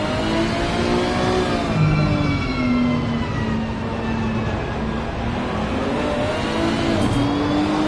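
A McLaren racing car, number 60, screams along a fast section of track, its engine note rising and falling steadily through gear changes, loud and continuous throughout with no talking.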